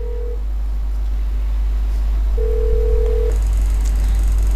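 Telephone dialing inside the Roblox game The Receptionist, with short tonal beeps standing out over a steady low hum and a brighter tone joining near the end.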